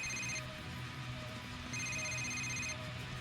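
A telephone rings with an incoming call in two clear electronic bursts separated by a pause, moderately loud against a low background hum, with no talking.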